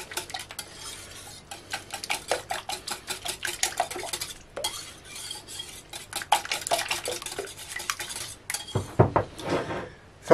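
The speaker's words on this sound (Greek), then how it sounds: "Ανακατεύω." A spoon stirs ground spices and smoked paprika in a bowl, making quick rhythmic scraping and clinking strokes at close range, with a brief louder clatter near the end.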